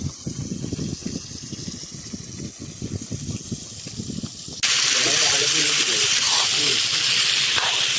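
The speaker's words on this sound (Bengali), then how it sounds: "একটাতে ভাত রান্না হচ্ছে, আর আরেকটাতে মাছ ভাজা চলছে" Fresh fish from the Matla river fries beside a pot of rice cooking outdoors. A loud, close hiss and gush rises, then turns into a harsher, steady roar partway through, with voices murmuring in the first half.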